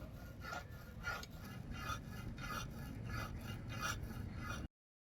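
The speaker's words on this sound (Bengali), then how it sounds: "মাছটাকে আমি এরকমভাবে ঘষে ঘষে পরিষ্কার করে নেব।" Scales are rubbed and scraped off a bam eel in rhythmic rasping strokes, about two per second, close and fairly quiet, ending abruptly.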